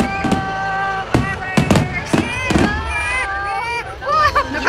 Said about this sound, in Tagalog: Ayaw ng fireworks!